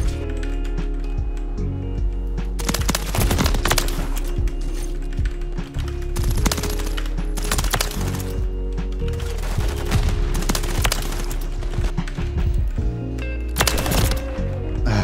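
Revolver gunfire rings out in a first-person shooter video game, with loud, repeated shots at irregular intervals and mechanical clicks and reloading sounds between them, over steady game ambience.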